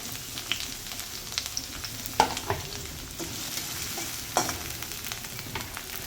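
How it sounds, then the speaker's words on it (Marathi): Garlic, onion and capsicum fry in hot oil for Manchurian, a close steady sizzle broken by sharp clinks and scrapes of a spoon stirring the pan. "लसूण टाकून घ्यायचा आहे आता या तेलात थोड्याशा. त्यानंतर कांदा टाकून घ्यायचा आहे, लगेच शिमला मिरची पण टाकून घ्यायची आहे."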